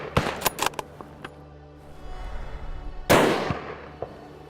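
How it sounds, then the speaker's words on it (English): A single loud gunshot at a driven wild boar hunt in Hungarian woodland rings out and echoes away, preceded by sharp clicks and rustling. "I let it get clear of the other guns in the line before taking a shot."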